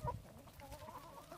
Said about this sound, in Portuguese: Aí tem um frango também, que é de Zé, pra ela vir buscar.